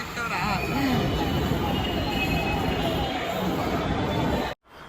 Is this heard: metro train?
yes